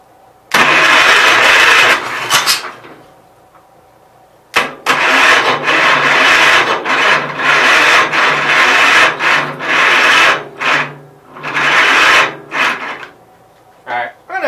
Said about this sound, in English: it only turned over for like 3 seconds and it's dead already